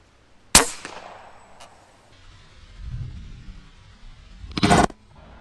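An FX Impact STX air rifle with a tensioned barrel firing a slug at an orange: one sharp, close crack with a ringing tail, a faint tick after it, then a short burst of spatter some seconds later.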